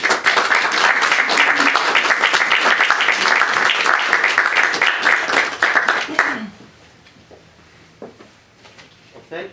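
Audience applause at a hybrid poetry reading, a dense, steady wash of clapping for about six seconds that then stops abruptly, leaving quiet room tone with a few stray claps.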